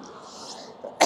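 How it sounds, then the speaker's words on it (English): Tickly cough heard outdoors by a seaside town, a short sharp single cough at the end after a moment of soft background noise. "You know when you get a tickly cough?"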